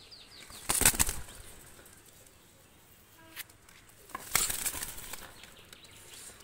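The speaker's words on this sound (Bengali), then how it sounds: "কবুতর দুটা ছেড়ে দেখাচ্ছি দেখেন" Two large pigeons are let go, their wings flapping in two loud bursts of clattering beats, a short one early and a longer flurry later, with quiet gaps and faint background between.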